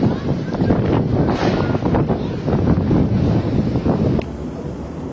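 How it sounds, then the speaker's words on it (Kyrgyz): Strong gusty wind blowing through a town, loud roaring buffets hitting the microphone in surges before easing slightly near the end. "Катуу шамал болуп жатат."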